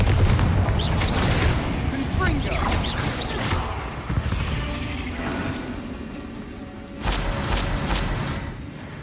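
Bombarda explosion spells and other casting effects crackle and boom during Hogwarts Legacy combat, a dense run of bursts and impacts with a strong blast near the end, set among game sound effects.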